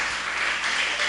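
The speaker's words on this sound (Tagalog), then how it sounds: "Malakas na palakpak sa ating mahal na Panginoon." A church congregation applauds during a Filipino preaching service in a short, even burst of many hands clapping, with no clear speech over it.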